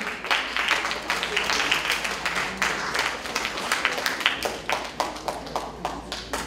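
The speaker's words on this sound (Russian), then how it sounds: "Слушаем аплодисменты!" Audience applause at the final of a children's fairy-tale storytelling contest, greeting a school team: steady dense clapping for about six seconds, fairly close and lively, with scattered sharper claps and no clear break.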